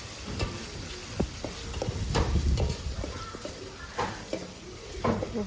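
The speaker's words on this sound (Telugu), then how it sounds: "దాని తర్వాత టమాటా వేసేసి టమాటా మంచిగా ఫ్రై చేయాలి." Tomatoes frying in a pan with paste for chicken curry, a steady close sizzle broken by repeated scrapes and clacks of a stirring spoon against the pan.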